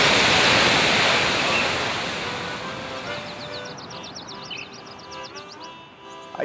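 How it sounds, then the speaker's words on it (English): Steady roaring rush of a waterfall in the Grand Canyon, loud and broadband, easing slightly over time with faint chirping birds above it. "Pretty tough to get right in against the waterfall"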